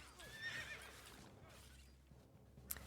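In the strategy game Eyes of War, a horse gives a single whinny early on, faint and somewhat distant over a low background rumble, with a few hoof and battle noises following.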